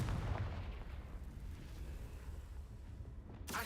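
A Confringo explosion spell in Hogwarts Legacy sounds as a heavy, booming blast that opens loud and rumbles away over several seconds, ending in a sharp burst of noise.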